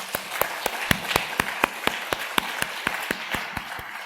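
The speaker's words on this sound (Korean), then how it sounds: "우리 박수 한번 해주시면 감사하겠습니다" Congregation in a church at a Korean Sunday worship service clapping in a slow, steady unison rhythm. Each hand clap is sharp and distinct and evenly spaced over a soft wash of room reverb.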